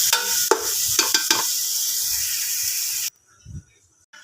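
Beef pinapaitan sautéing with onion, garlic and ginger in a pan, a loud, steady sizzle with a few stirring scrapes for about three seconds, then cutting off to near silence with a faint knock.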